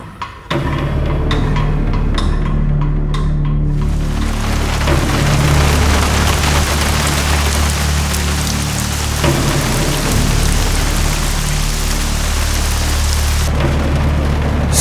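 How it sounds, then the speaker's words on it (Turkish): Heavy rain pours down in a dense, continuous roar, loud and close throughout, with low rumbling beneath. "Çok yağmur yağıyor ıslanırım"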